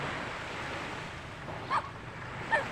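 Calm open sea rolls under a bright sunny sky during a squid-fishing outing, giving a steady soft wash of waves mixed with breezy wind rumble on the microphone, with two brief faint chirps near the end.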